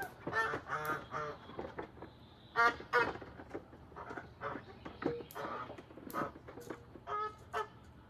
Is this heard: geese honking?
yes